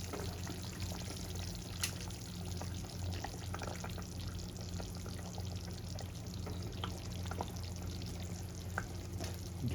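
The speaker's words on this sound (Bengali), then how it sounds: "দেখুন ঝোলটা আমার টকবক করে ফুটেছে" Katla fish and potatoes simmering in curry gravy in a pan, giving a steady, dense bubbling and sizzling that continues without pause at a moderate, close level, with no talking.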